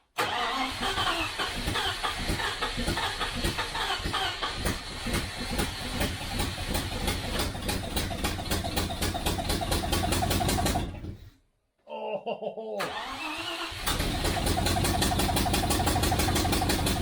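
A 1973 Range Rover engine cranks and runs loudly with a hissing exhaust leak, cutting out briefly near the end before restarting and idling roughly again.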